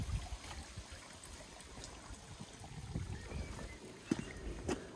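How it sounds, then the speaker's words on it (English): Faint, steady trickle of water from a garden water feature, heard outdoors at a distance with a soft, continuous wash and a few small splashy accents. "The water feature,"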